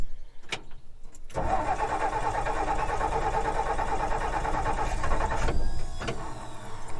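A car engine cranks steadily for several seconds after the choke is pulled, whirring on a battery left sitting since last August, then stops without catching; a few clicks come before and after.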